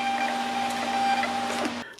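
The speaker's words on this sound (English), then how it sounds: "I just got a Rollo printer like like last week or so" A Rollo label printer running a test print whirs with a steady mechanical hum up close, then cuts off abruptly at the end.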